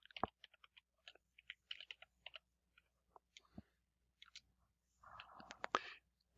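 Slow typing on a computer keyboard during a programming lesson, with sparse irregular key clicks close by and quiet between them, ending in a brief louder burst of keystrokes.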